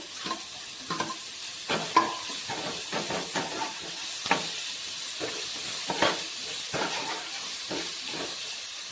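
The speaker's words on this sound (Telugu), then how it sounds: "ఇప్పుడు దీంట్లోకి టమాటో వేస్తున్నా, చిన్నగా కట్ చేసి పెట్టుకున్న టమాటో" Chopped tomato sizzles and hisses steadily in a hot pan for a sweet corn pasta, with repeated close scraping and stirring clicks over the constant frying, and no talking.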